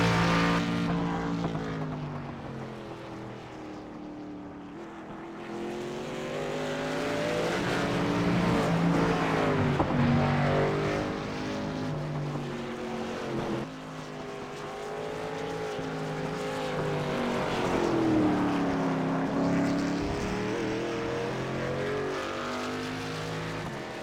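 Race trucks of the Northwest Truck Series lapping the Charlotte Roval, engines droning and rising and falling in pitch as they pass, a steady loud pack of motors throughout.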